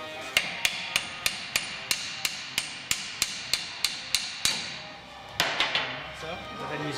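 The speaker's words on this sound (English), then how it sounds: "Slide the caliper over and take a little bit of the hammer." Hammer taps a brake caliper into place during a wheel hub replacement, about fifteen sharp, evenly spaced metallic strikes close up, followed by a few quieter knocks and shuffling.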